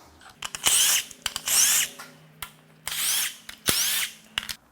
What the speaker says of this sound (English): Time to unbolt the lifters.